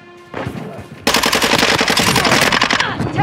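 Rapid automatic gunfire from an SMG in Call of Duty: Modern Warfare 2, loud and close, a short lighter burst followed by a dense sustained stream of shots lasting a couple of seconds.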